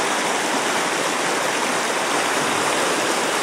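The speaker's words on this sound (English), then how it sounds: "here's the creek. Very full." A creek running very full after a flood, its rushing water a steady, dense roar that stays constant and fairly loud throughout, with no voices.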